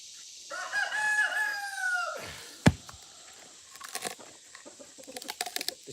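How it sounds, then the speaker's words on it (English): A rooster on a homestead farm gives a long, clear crow, followed by a sharp knock and then scattered soft clucking and scratching from chickens nearby. "The chickens are here to help clean the floor."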